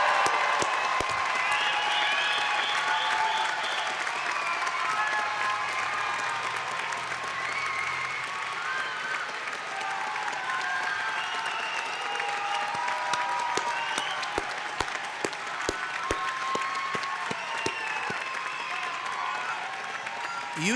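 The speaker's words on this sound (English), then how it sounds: "give you another rousing cheer of applause" Graduates' fan clubs at a commencement give a sustained rousing round of applause, steady dense clapping from a large crowd that carries on for about twenty seconds without easing.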